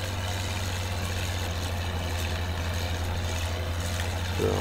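A tractor engine idles in the Farming Simulator 19 video game, a steady low droning rumble that holds even and constant throughout before a brief bump at the very end.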